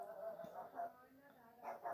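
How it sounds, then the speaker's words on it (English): A dog barks and yips in short bursts from another room, faint and intermittent, mixed with muffled household background noise. "The dog's going crazy again."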